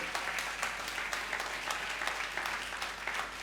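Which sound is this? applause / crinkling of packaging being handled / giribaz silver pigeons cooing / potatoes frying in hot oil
applause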